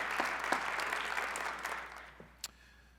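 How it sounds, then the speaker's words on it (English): An alumni awards ceremony audience gives a steady, full round of clapping that fades out after about two seconds, leaving a brief quiet with one sharp clap near the end. "Give yourselves a round of applause"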